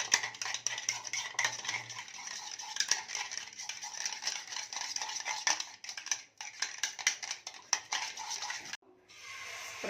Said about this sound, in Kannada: ನೀಟಾಗಿ ಇದನ್ನು ಮಿಕ್ಸ್ ಮಾಡ್ಕೊಳ್ಳೋಣ.